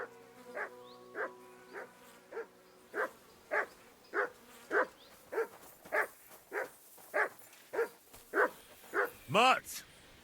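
Dog barking in Kingdom Come: Deliverance II, a steady run of about fifteen evenly spaced barks, close and fairly loud, ending in a higher yelp or howl.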